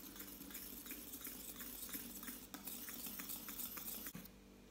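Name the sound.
stirring face mask mixture in a bowl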